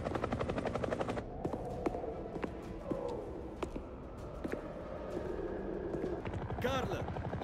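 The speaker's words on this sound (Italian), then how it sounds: "l'elicottero è davanti a noi" Helicopter at a landing zone in an Italian zombie film: a steady rotor chop throughout, with sharp bangs and clatter on top and a voice speaking over it.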